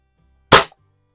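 A Reximex air rifle fires after a trigger tune, producing one sharp, close crack that dies off fast and quiet, with no spring twang trailing after it.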